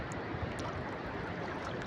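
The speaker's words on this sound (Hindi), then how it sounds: "अभी बहुत पानी तेज़ हो चुका है, ख़तरनाक सैलाब आ चुका है।" Floodwater surging after heavy rain in hilly country where landslides follow strong wind, a dangerous torrent roaring as a steady, dense, loud rush without pause, with no voices over it.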